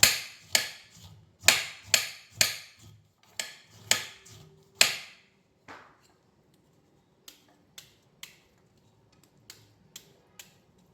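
A knife chops beetroot sharply on a board, about ten quick strokes in a row, then a few lighter, scattered taps follow in near silence.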